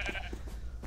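Sheep bleat inside a video game, a few short, fairly close calls in quick succession over a low steady background hum.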